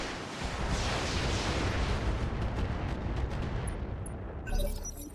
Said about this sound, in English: So we're going to fire on the standard quad gun